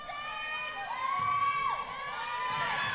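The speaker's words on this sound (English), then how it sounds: "A little bit of a Bronx cheer from the Rich County faithful" Fans at a Rich County high school girls basketball game give a sarcastic Bronx cheer before a free throw, with a crowd murmur swelling into scattered shouts and hoots echoing in the gym.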